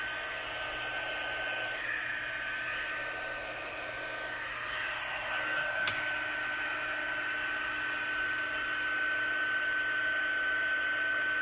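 Heat gun on its high setting melting embossing powder, a continuous close-up hot-air roar with a steady whine, slightly rising in loudness, with no speech over it.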